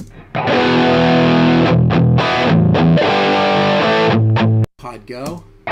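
Distorted electric guitar played through a Line 6 Helix modeler in a live rig comparison, loud sustained chords and riffs with a brief cutout near the end before playing resumes.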